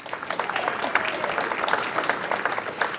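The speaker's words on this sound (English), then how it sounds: "Give her a round of applause." Audience applause at a community campfire kickoff, a steady wash of many hands clapping at moderate distance for about three seconds, with no talking over it.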